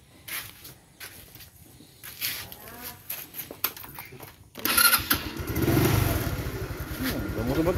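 A motorbike engine cranks after some quieter handling noises, catches halfway through and settles into a loud, steady idle close by.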